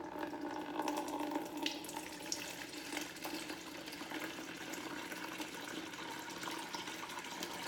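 Freshly juiced celery juice, mixed with leftover watermelon from the juicer, pours steadily into a pitcher in a kitchen, a continuous splashing trickle lasting several seconds, close by and fairly soft.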